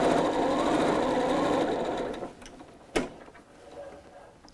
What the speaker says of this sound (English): All right, so let's go ahead and sew that.